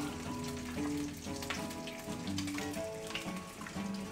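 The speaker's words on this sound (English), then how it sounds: "turn the heat down a little bit on my frying pan where the bacon is" Bacon and an egg sizzle and spit in a hot frying pan, a steady crackling fry with scattered pops, close by and with no voices.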